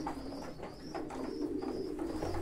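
A pigeon held in the hand coos in a series of soft, repeated throaty calls, close up, with a low steady background hum.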